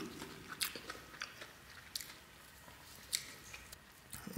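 Close crisp bites and crunchy chewing of a rice burger with a crispy scorched-rice bun, seaweed and beef patty, several sharp crackles spread over a few seconds in a quiet room.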